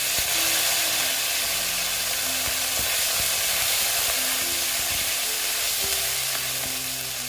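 Ginger paste fries in hot oil in a pan for a sweet pumpkin dish. A loud, continuous close-up sizzle and hiss runs steadily throughout, with no speech.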